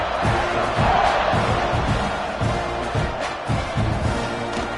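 A stadium crowd roars continuously in the NCAA 26 college football video game after a score, a loud dense wall of cheering with rhythmic surges and whoops.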